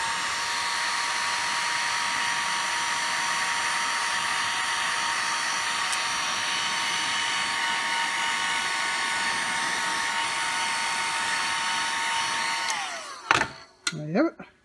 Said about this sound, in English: when you use the heat gun, just blow upwards